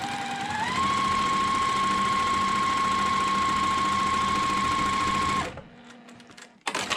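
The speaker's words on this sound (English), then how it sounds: "I'm just gonna sew a bunch together and then go press then" A sewing machine stitching pieced quilt border strips runs at a steady high whir for about five seconds, then stops abruptly, followed by brief handling rustle.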